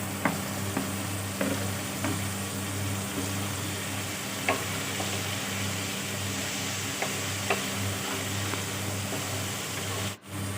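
Bottle gourd skin fries with onions in a pan, giving a constant close sizzle broken by regular scraping strokes of a spatula stirring the pan, with no talking.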